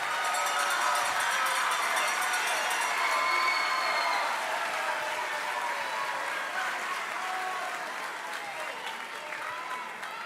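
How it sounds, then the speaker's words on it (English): A graduation ceremony crowd at Sunburst Youth Academy gives staff and teachers a big, sustained round of applause, dense clapping filling a large venue with scattered cheers, gradually thinning toward the end. "let's give them a big round of applause"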